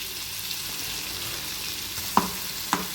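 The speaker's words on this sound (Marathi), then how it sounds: "त्याला छान प्रकारे असे लाल होईपर्यंत आपल्याला ते तळून घ्यायचं आहे" A paste of coconut, garlic, ginger and coriander frying until red gives a soft, even sizzle close by, with two sharp clinks of a utensil near the end.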